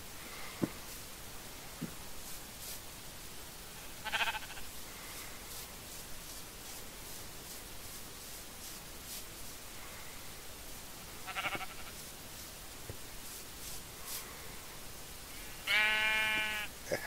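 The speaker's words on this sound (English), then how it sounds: "There's another rebel sheep." Three separate Minecraft sheep bleats, at about 4, 11 and 16 seconds, the last one loudest, over a steady faint hiss with no talking.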